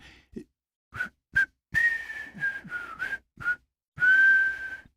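A video game rebel character hums a short melody in several separate phrases with brief pauses, thin and whistle-like in tone, fairly close and heard alone.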